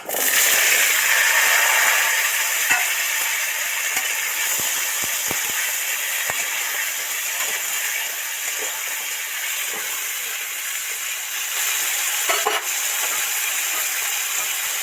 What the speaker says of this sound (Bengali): আলুটা তেলের মধ্যে ছেড়ে দিচ্ছি।